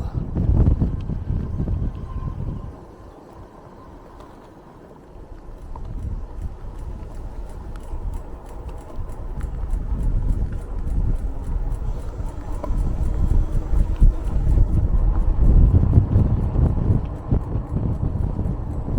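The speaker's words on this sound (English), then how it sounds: "The horses are out." Hooves clip-clop steadily as horses walk nearby, a rhythmic plodding with wind rumbling against the microphone throughout.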